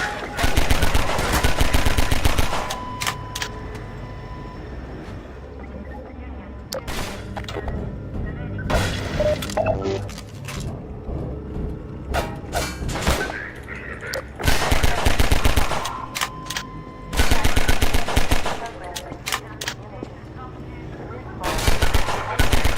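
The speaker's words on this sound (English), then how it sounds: "The gun will fire as fast as the player can click their input button" Bursts of rapid pistol fire from the video game Half-Life 2, loud clicks of shots packed into dense volleys with short gaps, over game effects and a voice talking in places.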